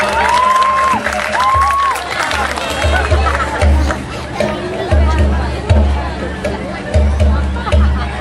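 Audience applause at a Madihin Banjar verse-performance competition in Rantau, Tapin: a steady wash of crowd clapping and cheering runs throughout, mixed with voices and a low droning hum.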